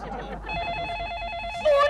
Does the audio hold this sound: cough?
no